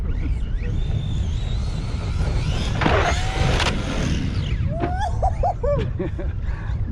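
A Redcat Kaiju RC monster truck's electric motor runs loud and continuous, with rising and falling whines as it accelerates, plus bursts of broadband rumble and clatter from the truck landing and tumbling.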